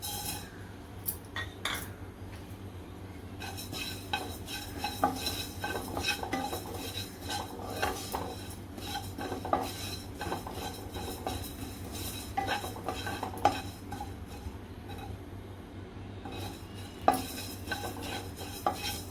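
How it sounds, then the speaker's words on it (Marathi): Fennel seeds roasting in a kadhai for mango pickle, with repeated metal spoon scrapes and clinks against the pan over a faint dry rustle, steady and close for the whole stretch. "आता ह्याच कढईत आपण बडीशोप भाजायचे आहे"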